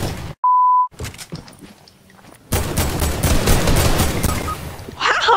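Video game gunfire, a brief tone beep then sparse shots, followed by a dense, loud burst of rapid automatic fire lasting a few seconds.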